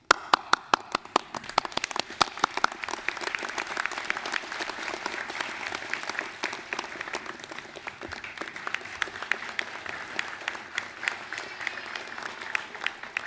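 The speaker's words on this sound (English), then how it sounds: "applaud those on stage, turn around 180 degrees, applaud your friends and family behind you" Sustained applause from a Massey University graduation ceremony audience in Manawatu, many hands clapping steadily in a large hall for the whole stretch, loud and even without pause.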